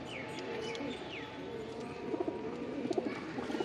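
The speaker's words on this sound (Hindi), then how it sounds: "ये देखो भाई कबूतर" Pigeons coo softly in soft, repeated calls close by among a flock kept for sale in a village in Delhi, with faint background noise and a few light chirps.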